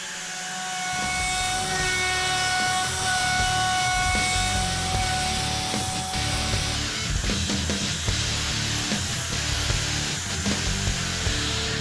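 A power sander whirs steadily on a wooden cutting board with a sustained mechanical hum and scraping texture, continuous and fairly loud throughout, in a woodworking workshop.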